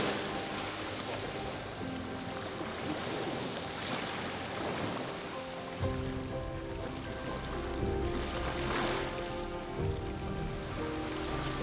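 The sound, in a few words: rain falling by the sea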